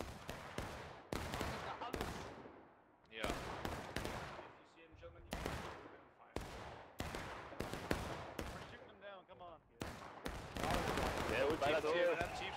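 Musket volleys in the War of Rights Civil War battle game, with sharp cracks firing in ragged bursts and clusters across the stretch, mixed with shouted commands and voices.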